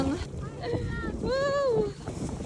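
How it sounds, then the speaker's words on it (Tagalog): Broadband wind rushes steadily across the microphone outdoors at a ski area in Niseko, Hokkaido, Japan, while a voice calls out over it. "Mahangin lang"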